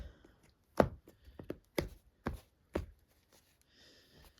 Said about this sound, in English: So after I give the deck a shuffle here, cut it here for you guys live.